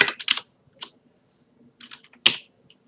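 Keys clatter on a computer keyboard at a Scala console, a few quick taps in a short burst, a pause, then several more soft strokes and one sharp key hit, close and clear in a quiet room.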